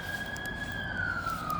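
An ambulance siren wails past in the street, a sustained tone slowly falling in pitch as it goes by, moderately distant over low traffic rumble.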